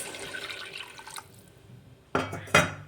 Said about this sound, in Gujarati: હું આની અંદર 1 કપ જેટલું પાણી એડ કરીશ.